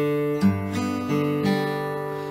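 One measure of a song fingerpicked on an acoustic folk guitar, a short run of plucked notes over sustained ringing strings, close and clear with no talking.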